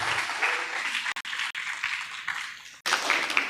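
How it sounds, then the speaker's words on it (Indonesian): An audience at an Indonesian campus talk on managing holiday bonuses and crime awareness breaks into steady, dense applause, briefly dipping twice before swelling again near the end. "Tepuk tangannya dulu dong."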